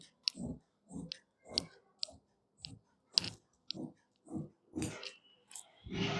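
Scissors snip through suit fabric while the sleeves and armhole are cut, giving a steady series of about eleven crisp, close cuts spaced roughly half a second apart, with no talking.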